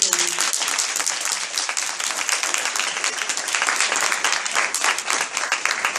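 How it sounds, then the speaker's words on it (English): An audience applauds a speaker at a college event, with dense sustained clapping filling the whole stretch at steady loudness and no one speaking over it. "Please give a nice round of applause for our speaker today, Ms. Julie."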